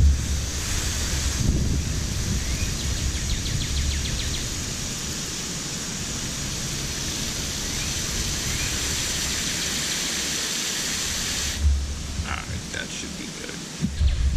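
A steady stream of water pours and splashes outdoors onto a newly planted small shrub for several seconds, with wind and faint background noise around it.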